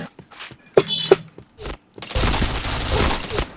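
Gunfire in a shooting video game, a few sharp isolated shots followed by a dense, sustained burst of rapid fire that fills the second half, with brief voice fragments underneath.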